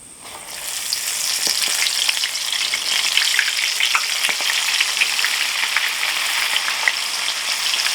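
Oysters for a New Orleans po' boy frying in hot oil, a loud continuous crackling sizzle that swells as they drop in and holds steady, with scattered pops, heard up close without talk.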